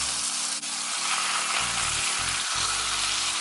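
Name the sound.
steak searing in a pan with garlic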